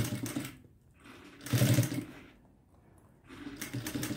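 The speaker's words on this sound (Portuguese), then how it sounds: "já estou passando lá na frente onde eu tinha passado a primeira costura de fixação" A sewing machine stitches a pink fabric carrying case in three short bursts of whirring, separated by brief pauses, close and clear with no talking.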